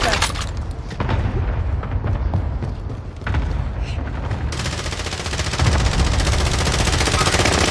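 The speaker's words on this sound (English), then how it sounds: "Allied cluster strike arriving" Cluster strike in Call of Duty Warzone Rebirth, a run of heavy booming blasts and rapid gunfire rolling together, loud and close, building into a denser barrage toward the end.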